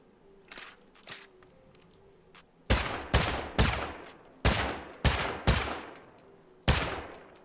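Explosive-round gunfire in the survival game Rust: a burst of loud, sharp shots in an uneven rhythm, with a few fainter distant pops first and then about seven heavy close cracks spaced across the rest of the clip.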